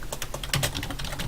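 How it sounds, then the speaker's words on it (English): Rapid, loud clicking of fingers typing on a computer keyboard picked up by a webcam mic during an online tabletop game session, dense keystrokes close up with no talk. "Very loud typing."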